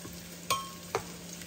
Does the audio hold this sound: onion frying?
yes